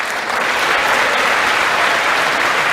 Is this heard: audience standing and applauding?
yes